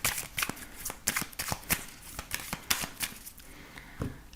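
A deck of oracle cards is shuffled and cut up close, with a rapid series of crisp riffling slaps and flicks in irregular bursts, fading a little toward the end.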